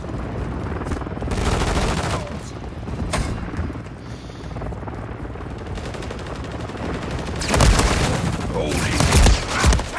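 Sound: gunfire in Call of Duty video game

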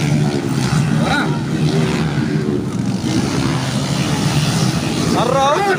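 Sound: underbone motorcycle racing engine revving

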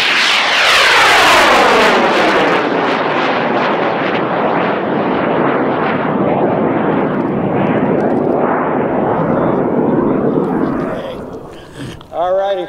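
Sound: DeWALT model rocket launching on an O-motor

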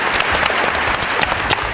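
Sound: applause welcoming a child

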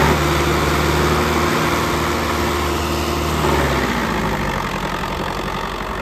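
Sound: four-cylinder tractor engine running

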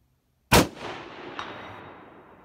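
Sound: Howa 1500 6.5 Grendel rifle shot at target

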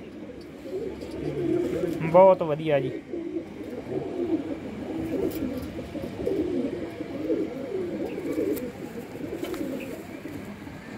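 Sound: female pigeon cooing

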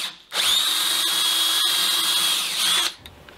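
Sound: drilling 8mm truss rod access hole in rosewood guitar neck

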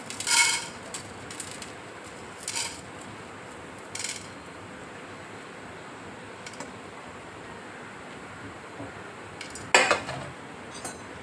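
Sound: roasting chana dal (split chickpeas) in a pan

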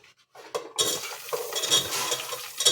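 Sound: onions frying in oil

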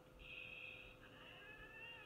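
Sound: cat meowing

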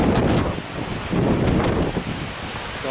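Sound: strong wind

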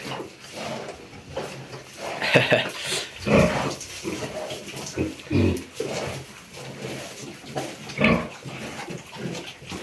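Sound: pigs grunting

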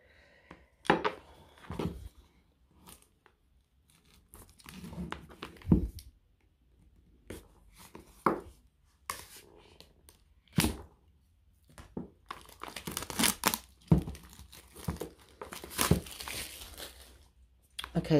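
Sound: knife cutting open tarot deck packaging

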